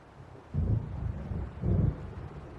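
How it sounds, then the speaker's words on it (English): Deep rolling thunder from an approaching storm in the video game Alan Wake Remastered, two heavy low rumbles swelling and fading in turn, with no voices. "It seems there's a storm coming."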